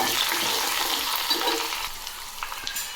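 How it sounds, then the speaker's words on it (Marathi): Cumin, mustard seeds, green chili, garlic and curry leaves dropped into hot oil and stirred, a loud, dense sizzle that gradually eases, with a few stirring clicks near the end. "यामध्ये आता जिरे मोहरी टाकून घेऊ हिरवी मिरची लसूण कढीपत्ता हे व्यवस्थित हलवून घेऊ"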